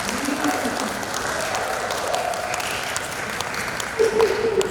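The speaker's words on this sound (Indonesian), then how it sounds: "Lebih keras lagi dong tepuk tangan untuk Pak Daninya" An audience claps at an Indonesian gathering, a steady, fairly loud wash of applause throughout, with a short voice briefly rising above it near the end.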